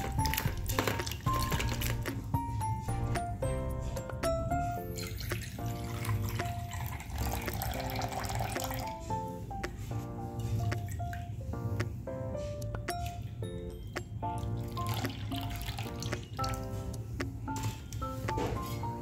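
Hands swish and splash tamarind in water in a bowl, washing it, with gentle background music playing throughout.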